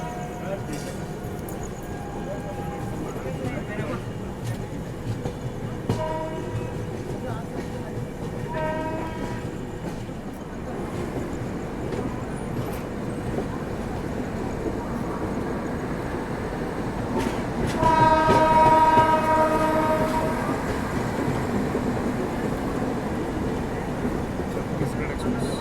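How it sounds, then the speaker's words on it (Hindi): Chennai Duronto Express rolling into Nagpur railway station, a steady rumble of wheels and carriages with brief horn or whistle tones and clatter rising near the end, heard from on board with voices and station noise around. "चलिए, फाइनली हमारी एंट्री नागपुर रेलवे स्टेशन में हो रही है।"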